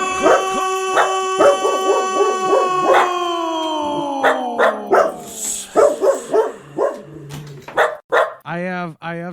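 Dogs bark, yip and howl together, loud and close, in a noisy run of repeated calls mixed with a person talking over them.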